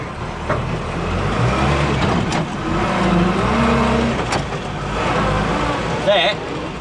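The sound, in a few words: Land Rover Series 3 in low range towing a 3-ton load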